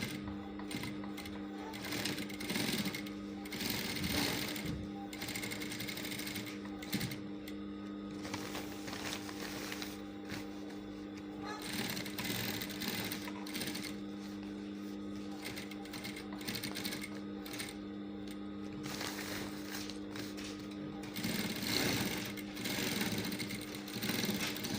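A sewing machine runs a steady whirring stitch along a patch pocket, close and continuous with small shifts in speed and brief pauses.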